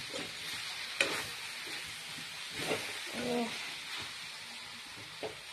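Chopped tomato fries in hot oil in a pan, giving a steady, close sizzling hiss with a few soft stirring scrapes and small pops, with no talking.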